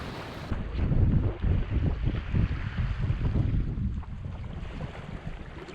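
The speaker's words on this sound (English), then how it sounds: "So the wind's just shifted." Wind rushes over a sailboat at sea, a steady, loud buffeting roar with gusty fluctuations and low, rolling water noise underneath.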